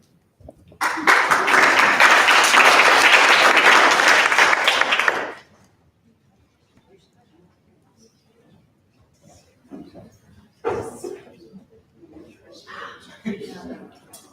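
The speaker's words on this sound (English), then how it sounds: "Wish I made it up here before the applause ran out." A crowd applauds steadily for about five seconds at a student government meeting, loud and sustained, then it stops and a few scattered sounds and voices follow.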